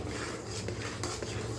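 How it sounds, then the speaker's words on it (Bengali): A spoon scrapes and clinks against a pan while stirring a cashew paste gravy for paneer butter masala, steady close stirring with light metallic knocks. "দিয়ে এটাকে নাড়িয়ে চাড়িয়ে নেব"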